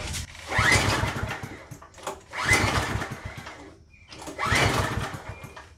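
An MTD tiller with a rusty tank and bad carburetor being pull-started on half choke, three loud close bursts of cranking and sputtering engine, each cutting off briefly before the next attempt.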